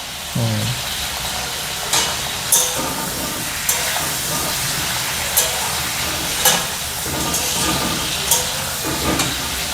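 Large golda prawns fry in hot oil with a loud, constant sizzle, broken every couple of seconds by brief scraping stirs in the pan, close up and without speech.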